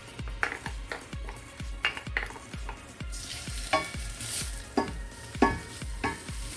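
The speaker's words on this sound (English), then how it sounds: "I'm just gonna fry this until well fried" Onion, chili and garlic sizzle as they fry in a pot, with a spoon stirring and scraping in a steady rhythm of repeated strokes, close and fairly quiet.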